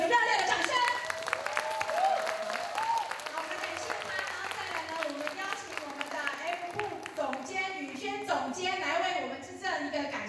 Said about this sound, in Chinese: 请大家再用一个热烈的掌声。